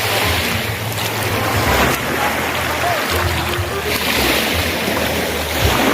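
Sea waves at the shore wash in continuous, roaring surf with heavy wind buffeting the microphone, loud and close, while faint voices sit in the background.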